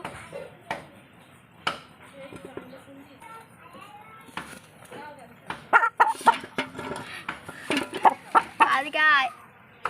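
Chickens clucking and squawking around people talking, the bird calls growing busier and louder toward the end.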